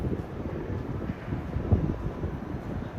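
Strong wind roars across the microphone on Madison Avenue in Midtown Manhattan at night, a steady low rumbling buffeting with no clear voices.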